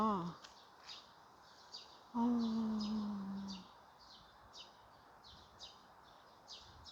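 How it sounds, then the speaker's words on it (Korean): Small birds chirping repeatedly in the distance, quick high tweets scattered throughout, while a person speaks softly and hums briefly. "지금도 어, 새소리가"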